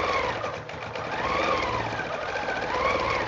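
A sewing machine stitching quilting with a ruler foot runs continuously at a steady, rapid mechanical chatter, close and clear with no talking.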